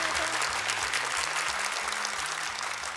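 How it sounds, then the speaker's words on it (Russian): Studio audience applause on a game show, a dense steady wash of clapping that fills the whole stretch at an even level, with a low musical tone running underneath. "Итак, давайте поддержим аплодисментами Батыржана и Дильбару."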